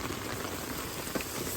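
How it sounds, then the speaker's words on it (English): Steady, even hiss of pouring rain falling on a campground at Canyon Point in Apache-Sitgreaves National Forest, a dense continuous patter with no voices, one brief brighter splash near the end. "setting up their tent in the pouring rain"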